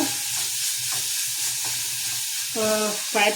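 Tomatoes sauté in a pan with a constant close sizzle and a faint hiss of steam, a low rhythmic hum beneath, and brief tonal sounds near the end.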